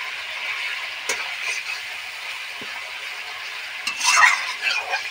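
Spice paste frying in a pan with a little water for an egg and soybean curry: a steady soft sizzle with a few scrapes of a spoon, growing briefly busier near the end.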